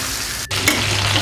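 Mackerel with curry leaves fries in a pan, a close, steady sizzle broken by a brief dip and a single scrape or stir partway through.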